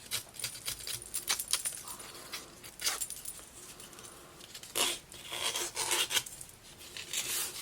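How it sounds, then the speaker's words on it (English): Scissors scrape along a paper edge to fray it, scratchy rasping and rubbing in uneven bursts with brief pauses, close up and fairly quiet. "I'll cut it on the trimmer and then just try and fray it up with scissors."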